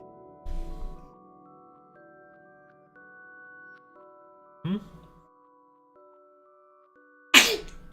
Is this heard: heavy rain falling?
no